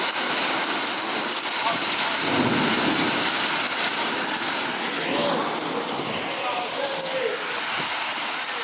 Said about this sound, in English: I can't tell if people are hating the rain or liking the rain. It's coming down hard.